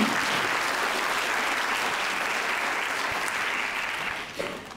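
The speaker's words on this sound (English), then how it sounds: "Give them a big applause." A lecture audience at a university in Japan gives dense, continuous applause that stays loud for nearly five seconds and tapers slightly toward the end, with no speech over it.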